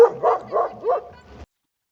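A reactive Belgian Malinois barks four times in quick succession, close and loud, the barks clipped and slightly whining, then stops abruptly into silence.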